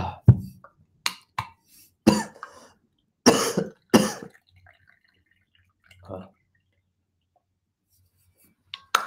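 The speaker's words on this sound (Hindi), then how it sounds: "एक बार खांसते हैं ना, जान हाथ में आ जाता है सारा।" Several sharp, close coughs in quick bursts, followed by quieter throat sounds and a soft clearing, with pauses of near silence between them.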